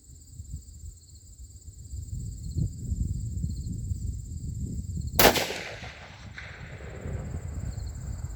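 A single sharp rifle report from a Ruger American Predator in 6.5 Grendel firing 90-grain bullets at a 100-yard range. It cracks out loud and close, with a short fading tail, against a quiet outdoor backdrop with insect chirps.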